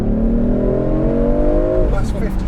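A 2019 BMW i8 Roadster accelerates hard, its engine note climbing steadily in pitch, loud and close, before easing off as the revs drop near the end.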